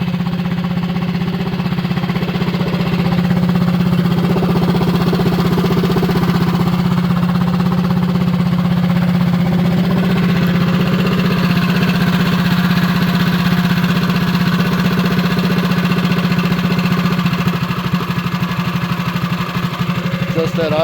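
A mini bike motor with fresh oil idles steadily and close, a low even putter that runs unbroken for the whole stretch with no talk over it.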